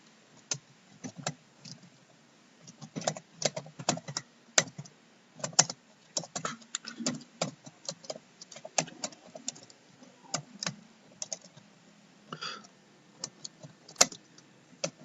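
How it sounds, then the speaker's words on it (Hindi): Computer keyboard typing in irregular bursts of close, crisp key clicks with short pauses between, no talking. "अब मैं यहाँ पर कुछ टाइप कर देता हूं।"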